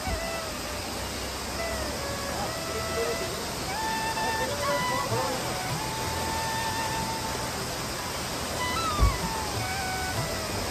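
A waterfall along the mountain route to Kedarnath roars as a steady, dense rush of water. Thin whistling tones and faint background voices drift over it, and a single soft thump sounds near the end.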